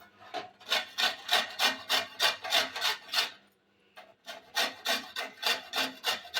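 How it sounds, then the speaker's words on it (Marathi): Orange peel is grated for a plum cake in quick, rhythmic rasping strokes, about a dozen in a row. A short pause follows, then another even run of strokes, close and clear, with no talking. "पण जी ऑरेंजची साल असते ना, ती पण आपण थोडीशी किसून घेणार आहोत."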